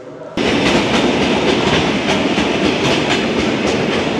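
A train rolls through a railway station in Lyuban, its steady loud rumble and clattering wheels starting abruptly and continuing without a break.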